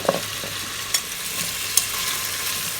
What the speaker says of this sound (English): we're going to add in 8 whole cloves of garlic, skin off. Just put them in.